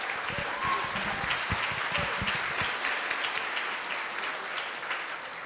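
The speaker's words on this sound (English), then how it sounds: "Please give him another round of applause." Audience applause at a Women's History program hosted by a Stockbridge councilman, a steady wash of many hands clapping for the full stretch, fairly close and even, with a few brief voices mixed in early on.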